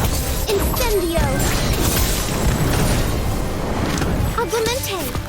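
Incendio fire spell cast in Harry Potter Magic Awakened, a loud booming whoosh of flame with crackling bursts sustained over several seconds, with a voice heard over it.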